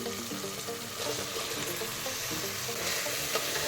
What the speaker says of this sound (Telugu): మష్రూమ్స్కి మనం వేసిన మసాలాలన్నీ బాగా పట్టే వరకు ఫ్రై చేయాలి